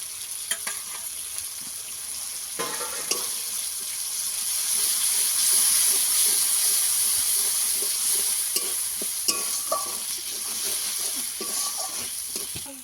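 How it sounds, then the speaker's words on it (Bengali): Loud steady sizzling of coriander leaf paste frying in a pan, with occasional scrapes and stirring clicks throughout, close up and without voices. "ধনে পাতা দিয়ে একটু ভাজা ভাজা করে নিয়েছি"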